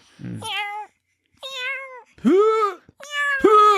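A person imitates a cat, producing four drawn-out, convincing meows with rising and falling pitch, close and fairly loud.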